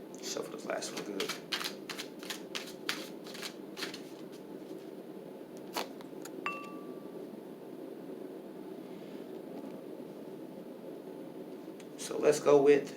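Tarot cards being shuffled by hand, a rapid series of crisp riffling bursts close by at the start, then quieter handling and a softer riffle near the end, with a voice speaking over it.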